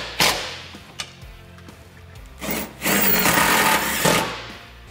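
A power drill drives a self-tapping screw with a washer into a hole in a Can-Am Defender skid plate. Short loud whirring bursts come first, then a longer sustained run with a strained motor tone, all close up.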